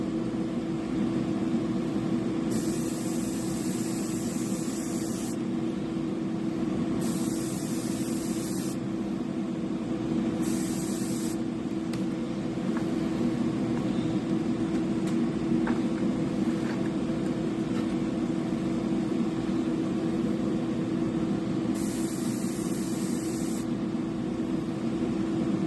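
Paint hisses from a spray can onto a fishing lure in long steady bursts over a constant low hum. Four separate spray passes sound close and even, with short pauses between them.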